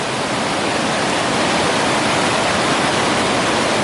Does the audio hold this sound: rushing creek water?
yes